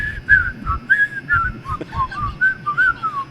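A man whistles the Andy Griffith Show theme, a clear, bright melody of short phrases and quick pitch slides, close up and with no talking.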